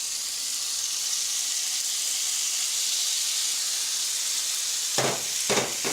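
Chicken and turkey wrap meat sizzles steadily on a hot plancha, a dense continuous hiss with a few sharper bursts of spatter near the end, with no voices.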